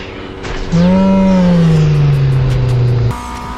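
A Volkswagen Golf GTI, front-wheel drive, in NFS Heat roars loudly near top speed, its engine note droning and slowly sliding lower, then cutting to a new tone at the end.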